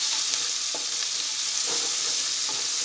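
Ginger, green chili and fresh green garlic sizzle steadily in oil in a pan, a close continuous hiss broken by a few soft stirring scrapes.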